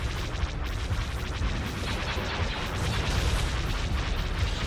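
Dense, continuous barrage of cannon fire and explosions in a Star Wars Republic at War space battle, loud booming rumbles overlapping without pause.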